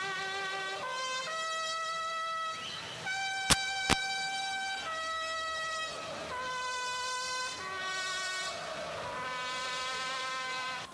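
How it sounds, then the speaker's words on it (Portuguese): Air horns blare in long sustained harmonic blasts from a crowd of São Paulo fans celebrating a championship title outside the stadium, with layered overlapping horn tones, a loud steady background din and two sharp brief peaks midway. "com a corneta"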